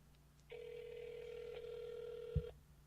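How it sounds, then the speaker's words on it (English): A telephone on a live call gives one steady electronic ring lasting about two seconds, fairly faint, followed by a brief click, with no talk over it. "There's one ringy-dingy, Miss Lily."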